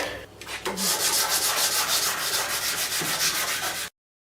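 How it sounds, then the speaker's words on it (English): Sandpaper is rubbed by hand over the wooden body of a Carlo Robelli upright bass, making close, rhythmic scratchy strokes that go on steadily, then cut off abruptly. "Now we'll go back to the sandpaper."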